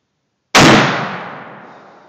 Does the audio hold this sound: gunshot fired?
yes